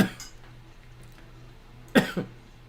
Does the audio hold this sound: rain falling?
no